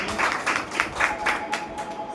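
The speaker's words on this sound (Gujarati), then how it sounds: "આપણે તાળીઓથી વધાવી લઈએ" An audience at an Aam Aadmi Party organisational meeting in Palitana claps to welcome a party official. The clapping comes in rhythmic, evenly spaced bursts of moderate loudness, with no talking over it.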